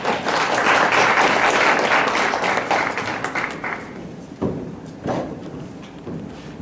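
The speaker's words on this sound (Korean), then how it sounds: "넥스트 이노베이션의 서인식 대표님을 다시 한번 박수로 모셔볼게요" Audience applause at a venture startup forum welcoming a company's CEO to the stage, a dense burst of clapping that fades after a few seconds into scattered claps and thuds.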